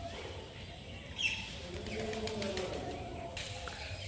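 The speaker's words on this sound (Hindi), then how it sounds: "कबूतर निडर है।" Pigeons cooing softly outside a Digambar Jain temple in Sarnath, with other birds chirping around them, a few brief calls standing out over steady outdoor background noise.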